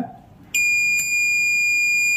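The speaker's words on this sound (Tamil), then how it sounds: "ரெண்டையும் டச் பண்ணும்போது எனக்கு என்ன வருது, பீப் சவுண்ட் வருது" A multimeter in continuity mode gives a loud, steady high-pitched beep as its probes touch a battery connector during an Oppo A71 repair. The tone starts abruptly and holds unbroken after a brief quiet moment.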